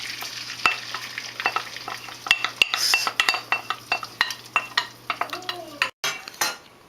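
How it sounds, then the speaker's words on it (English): Egg being scrambled in a pan for a tomato egg dish, with a utensil scraping and tapping against the pan in quick irregular strokes over a soft background sizzle, close and moderately loud, no talking. "Scramble the egg."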